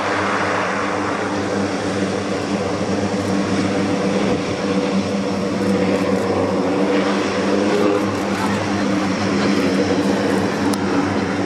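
A military propeller aircraft drones steadily overhead at the Royal Navy International Air Day at RNAS Yeovilton, a loud continuous engine roar with a rich low hum that stays close and unbroken throughout.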